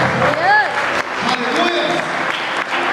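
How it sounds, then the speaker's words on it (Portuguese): A church congregation applauds during a worship service, a continuous wash of clapping with voices rising over it and cheering throughout. "E a igreja deu uma grande salva de palmas, amém?"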